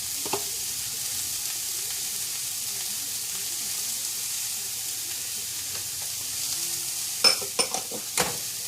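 Potatoes fry in a pan with salt, pepper and garlic powder, giving a steady low sizzle with soft stirring scrapes throughout and a few sharper utensil knocks near the end, close up and without talk.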